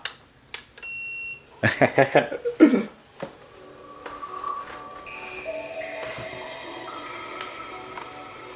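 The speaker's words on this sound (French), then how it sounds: "j'aimerais que vous écoutez le son mythique quand on l'allume" A Sega Dreamcast console switching on, a few clicks and brief voice sounds followed by a layered start-up chime of sustained electronic tones stepping upward and ringing on.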